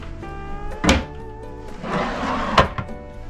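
A drawer in a balcony cabin on Norwegian's Pride of America cruise ship slides and bumps, with two distinct wooden thunks about a second and a half apart and a soft rolling slide between, close and quiet.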